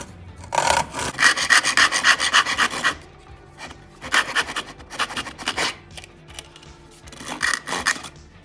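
A hand saw cuts through wood close by in bursts of quick, rasping back-and-forth strokes, with short pauses between the bursts.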